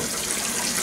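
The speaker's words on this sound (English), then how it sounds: "back in the pan it goes with some more distilled vinegar" Distilled vinegar pours into a rusty cast iron pan for another soak, a steady, close, continuous splashing gush of liquid with no talk over it.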